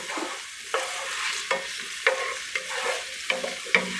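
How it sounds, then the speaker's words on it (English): Onions fry in a hot pan, a bright continuous sizzle broken by regular scraping stirs roughly every half second, close and clear with no talking. "Make sure you have a nice hot pan, because you do want these onions to cook off."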